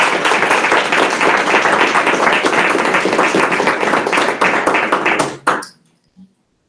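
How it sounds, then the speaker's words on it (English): A room full of people applauding at a board of education meeting, dense steady clapping for about five seconds that cuts off abruptly, followed by a brief clatter and silence. "Can we give a round of applause,"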